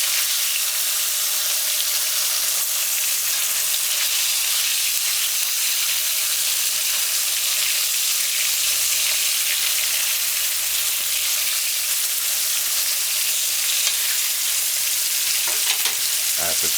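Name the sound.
coconut fish frying in a pan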